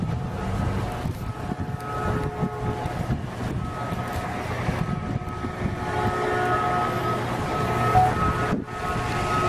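A Caltrain commuter train, number 708, rumbles past nearby with a steady low roar and metallic hum, growing slightly louder toward the end.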